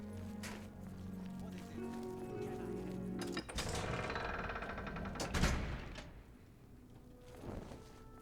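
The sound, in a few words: horse galloping in video game The Elder Scrolls IV: Oblivion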